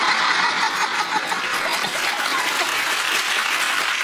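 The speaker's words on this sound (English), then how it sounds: "That's the most churlish round of applause I've ever heard." A studio audience at a British TV news quiz panel show gives a full, even round of applause that runs unbroken and fairly loud throughout.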